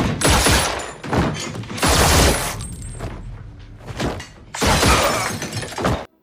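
Gunfire and shattering impacts from an action film: three loud bursts of shots with breaking, crashing debris, separated by brief quieter gaps, with no talking.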